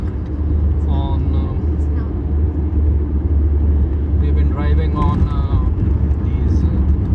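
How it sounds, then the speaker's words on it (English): A car drives on a flyover in Delhi, with a steady, loud low engine and road rumble inside the cabin throughout, while someone talks over it. "I really love to drive on these flyovers nowadays"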